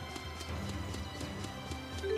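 Horse hooves clop steadily in the Tales of Xillia video game, a rapid even rhythm of soft thuds under game ambience and music, moderately loud and continuous.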